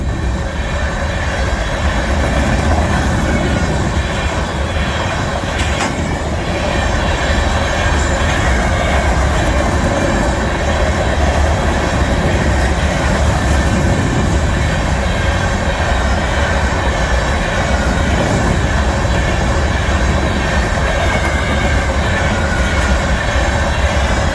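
A long CN freight train rumbles steadily past up close at Ladysmith, loud continuous rolling of wheels on rails with faint squeals and rhythmic clatter.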